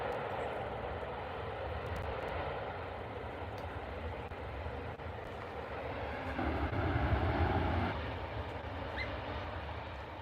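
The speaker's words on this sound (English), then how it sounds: "They are noisy, them planes, aren't they?" Aircraft at Manchester Airport produce a steady distant engine roar with a low rumbling drone that swells briefly before settling back, heard alone without talk.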